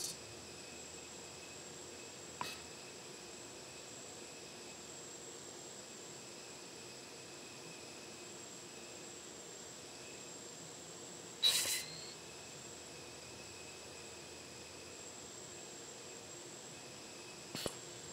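Steady engine drone of an airplane departing runway 28 at Hampton Roads, constant and even throughout, broken only by a few brief clicks.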